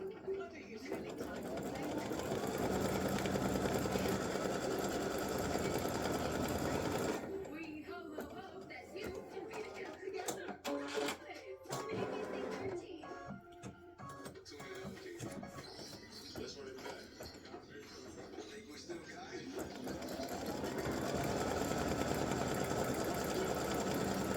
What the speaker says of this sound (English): So it'll stitch the placement line for all 3 pieces.